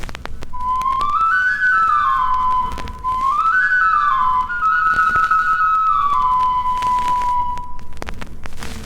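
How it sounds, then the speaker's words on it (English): A breathy, whistle-like ancient Mexican clay flute plays a slow, wavering melody of sustained tones, rising and falling, loud and close. "Here's a flute, made in Mexico at about the same time."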